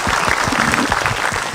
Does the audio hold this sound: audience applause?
yes